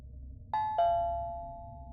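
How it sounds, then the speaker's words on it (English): Two-tone ding-dong doorbell chime, two clear strikes in quick succession with the second tone ringing out and slowly fading over a quiet background. "the doorbell rang."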